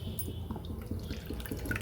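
Water pours from a tap into a measuring glass, 500 ml in all, for making kadha. The splashing and trickling are close and steady, with no talking.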